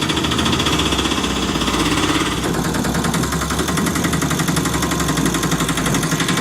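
A passing motorbike's loud, rough engine rattles with a fast pulsing throb, close by and sustained throughout, shifting slightly in tone midway.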